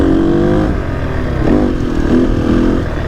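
An enduro motorcycle engine revs while riding, a close, loud mid-pitched drone that rises and falls with the throttle and has no talking over it.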